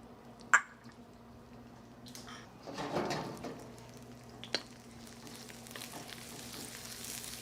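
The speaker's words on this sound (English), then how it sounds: "Let's heat up some peanut oil in the wok. Add a nice julienne of shallots. And some minced garlic." Julienned shallots and minced garlic fry in hot peanut oil in a wok, with a faint, steady sizzle, one brief louder hiss of stirring and a few small clicks.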